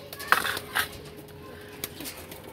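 Teddy pigeons in a loft give a few short, soft coos early on, followed by faint rustling against quiet background noise.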